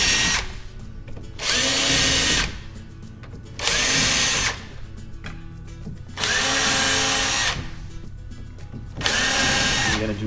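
A cordless drill drives color-coded screws to fasten the interlock on an Andersen A-Series patio door, with five loud whirring bursts of a couple of seconds each separated by short pauses, close up.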